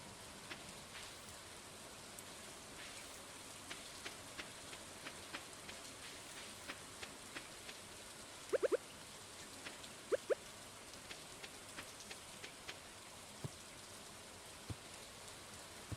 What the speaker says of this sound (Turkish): Yağmur yağmaya başlamış.